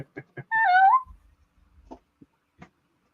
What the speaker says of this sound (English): This is my daughter's cat.